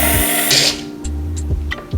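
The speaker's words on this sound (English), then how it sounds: "I usually add water a few times before I start drilling again." An electric drill grinds into a glass Hennessy bottle kept wet with water, cutting in short bursts: a harsh high whine, then a buzzing low drone that stops and restarts.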